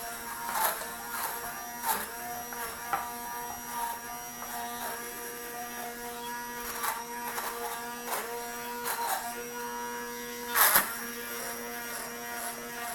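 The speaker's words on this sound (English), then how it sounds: "I like to use this mixer. This is perfect for a situation like this." An electric hand mixer whirs steadily through a thick honey and brown sugar glaze, a continuous motor buzz at close range with small bumps and clatters as the beaters shift in the bowl.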